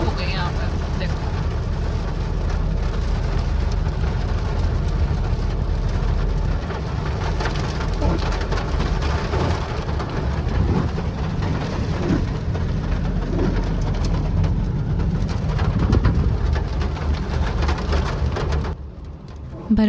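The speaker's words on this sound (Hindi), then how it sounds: "बरौट ने हमारा स्वागत बरसात के साथ कर दिया।" Steady heavy rain pours in Barot Valley, Himachal, a dense loud hiss on surfaces that continues throughout before easing near the end.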